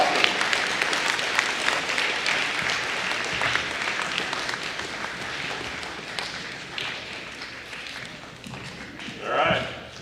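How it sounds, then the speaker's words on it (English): Audience clapping at a career day keynote, a steady crowd patter of hands that thins gradually, with a voice talking over it and a brief louder swell near the end. "Man, you guys are clapping."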